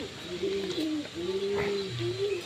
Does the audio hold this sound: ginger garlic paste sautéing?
no